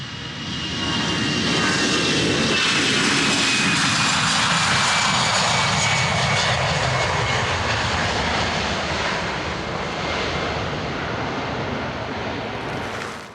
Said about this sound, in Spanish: si observamos un motor a reacción en acción, veremos que no hay pulsos ni vibraciones